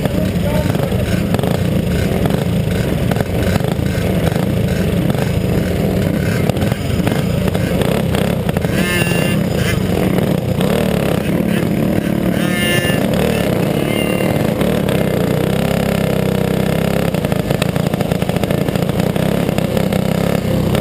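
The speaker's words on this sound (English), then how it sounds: "Drivers, start your engines." Race engines firing up and revving together at a motorsport event, a loud continuous roar of multiple engines with throttle blips and clatter, sustained close and dense throughout, with a voice faintly under it.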